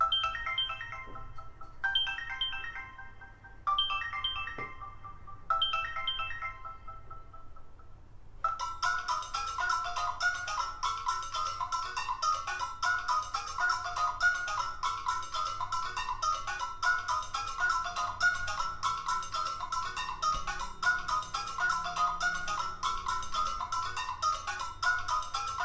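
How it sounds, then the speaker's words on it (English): Ringtones play through a Samsung Galaxy Ace phone speaker: four short repeated tone bursts, then a continuous bright, tinny melody that carries on steadily and fairly loud. "We're going to be going with ringtones."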